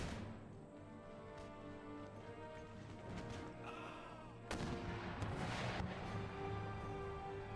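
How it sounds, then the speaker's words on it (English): Foot artillery and mortars firing on a Napoleonic-era battlefield in Empire: Total War, heard as dull booms and crackling volleys over a continuous battle din, with one sharper, louder blast partway through. "my foot artillery start engaging the infantry lines"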